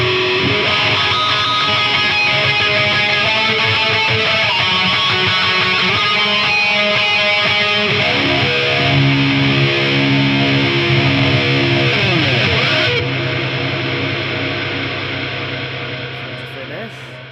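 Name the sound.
electric guitar tone with flanger, massive reverb and wah-wah pedal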